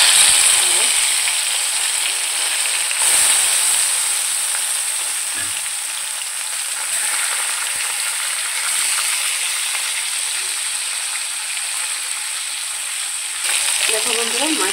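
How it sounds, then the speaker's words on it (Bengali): Fish frying in hot oil, a loud continuous sizzle with a bright hiss that holds steady for the whole stretch, occasional soft knocks, and no talking. "দেখো বন্ধুরা মাছটা ভাজা হয়ে গেছে প্রায়।"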